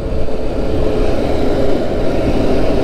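A Kawasaki KLX motorcycle passing on a road in Tebo, its engine a steady, loud drone under the broadband roar of traffic, with no talk over it.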